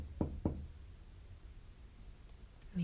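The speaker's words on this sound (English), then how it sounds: "No one answers. You knock again." Two sharp knocks on a door, about a quarter second apart, fairly close, followed by quiet room tone and a brief soft thump at the end.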